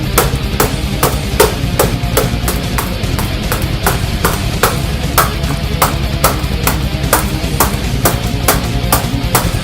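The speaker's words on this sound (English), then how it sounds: "smack it with a hammer" A hammer strikes a Corsair C70 computer case's tempered glass panel lying on the ground, about two dozen loud, sharp, evenly spaced blows in a fast steady rhythm, close and dominant throughout.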